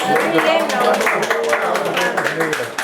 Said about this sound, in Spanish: Un aplauso para Laurita.